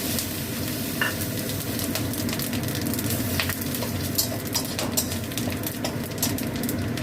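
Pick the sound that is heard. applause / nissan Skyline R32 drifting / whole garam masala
whole garam masala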